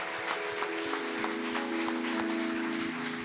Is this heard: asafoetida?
no